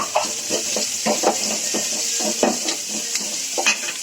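Cluster beans and onions sauté with spice powder in a pan, a soft steady sizzle broken by repeated spoon scrapes and knocks against the metal, close up and without speech.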